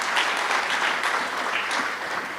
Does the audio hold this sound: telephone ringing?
no